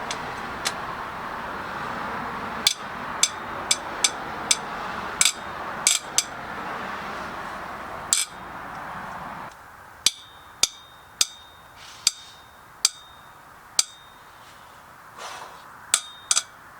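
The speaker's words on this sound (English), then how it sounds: "Now it's the fun part of breaking each one of these bolts loose for the ARP studs." Wrench or breaker bar cracking bolts loose one by one on the engine manifold of a turbocharged Hyundai Genesis Coupe being fitted with ARP studs; sharp, separate metallic clicks and snaps at irregular intervals, close and clear over a quiet garage hum.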